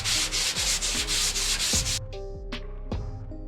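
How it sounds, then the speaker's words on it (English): The steel body of a 1949 Jeep Willys being sanded during bodywork, rapid loud rhythmic scraping strokes up close for about two seconds, then a few slower, separate rubbing passes. "I'm gonna sand it and see what we can do"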